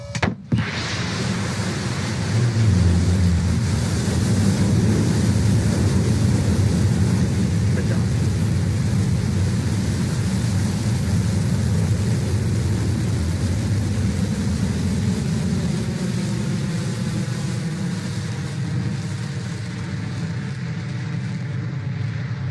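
A Blue Origin rocket with a BE-3 engine lifts off from Launch Site 1 in West Texas, its loud, continuous rumbling roar kicking in abruptly and sustaining a dense, steady thunder throughout as it climbs.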